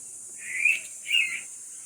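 A bird gives two clear, high whistled calls in quick succession, close by, over faint background hiss.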